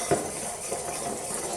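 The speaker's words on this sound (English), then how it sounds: "Give it a good stir" A utensil stirs a mix in a bowl with soft, brief scraping and clinking strokes close by, one short knock near the start, otherwise a quiet steady swish.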